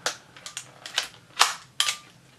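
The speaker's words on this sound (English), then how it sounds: "Shutter seems to work." Several sharp, clicky snaps from a cheap Helena 3000 film camera with a selenium cell, its shutter fired repeatedly at uneven intervals, close and fairly crisp with no talking.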